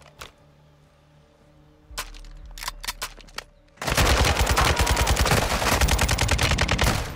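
Sniper rifle gunfire in Call of Duty: Modern Warfare II. A few sharp, separated shots crack out, then a dense, loud stretch of rapid gunfire and battle noise takes over until the end.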